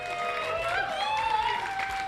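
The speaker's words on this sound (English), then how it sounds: "Give them all one final big round of applause there to everybody" Audience clapping and cheering at a bowling event with a costume catwalk, a continuous wash of applause from a crowd, steady and fairly loud over the short stretch, with some voices mixed in.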